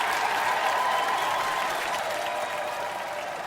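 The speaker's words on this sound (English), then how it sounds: "That crowd of sorry souls and goons actually applauded." Applause from a crowd of down-and-out patrons in a bar after a musician's performance: dense, steady clapping that fills the room, loud and close, fading slightly toward the end.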